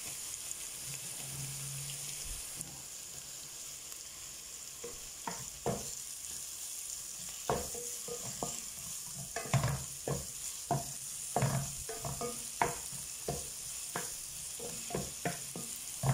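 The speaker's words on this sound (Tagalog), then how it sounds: "Ayan, lutuin natin medyo yung ating hotdog. Haluin natin yung ating hotdog." Sliced hotdog fries in a pan for Filipino chicken sopas, with a constant soft sizzle under frequent rhythmic clacks and scrapes as a utensil stirs it, close and fairly loud.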